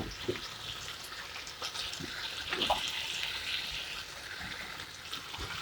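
Hot rendered fat drains from a pan of minced meat being cooked for a pasta bake, a soft liquid trickle with faint sizzling and occasional light clinks of utensil against the pan.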